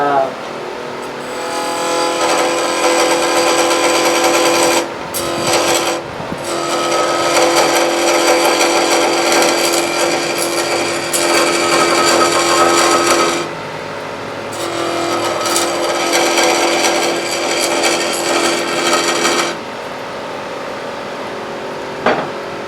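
A lathe tool scraping a spinning resin casting gives a steady, loud, harsh whine that holds for several seconds at a time, broken by brief pauses as the cut stops and restarts.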